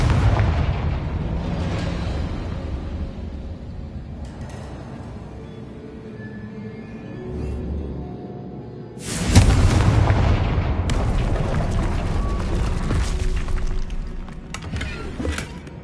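A fiery blasting spell goes off in the Hogwarts Legacy video game: a loud, broadband boom bursts in partway through and then rumbles on amid ongoing game effects.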